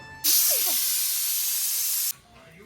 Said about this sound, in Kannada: ಈಗ ಕ್ಲೋಸ್ ಮಾಡಿ 3 ವಿಷಲ್ ಕೂಗ್ಸೋದು.